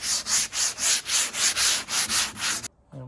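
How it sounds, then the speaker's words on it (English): Hand sanding of paint on a Porsche 914 body panel, eleven steady rhythmic back-and-forth rasping strokes, loud and close, then it stops and a faint short sound follows. "we're not going to sand it too much because we don't want to detexturize it"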